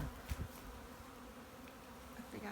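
A honey bee swarm buzzes in Dandenong North, a continuous close hum with individual bees zipping past the microphone in brief louder bursts.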